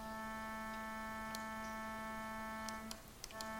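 A steady synthesized tone pushed into distortion and clipping, buzzing with a constant harmonic-rich drone and a few brief clicks near the end, heard alone with no talk.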